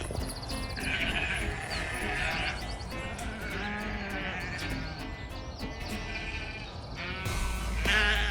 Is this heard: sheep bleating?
yes